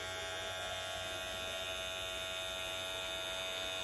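A Wahl Magic Clip cordless hair clipper runs with a steady, fairly quiet electric hum and buzz. The sound is continuous and unchanging, with no voices.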